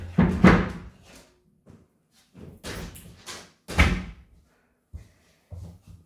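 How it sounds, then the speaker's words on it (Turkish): A door is shut indoors, heard as a few separate knocks and thuds of the door and its latch spread over several seconds, fairly close and with no talk over them. "Bir kapıyı kapatıp geliyorum."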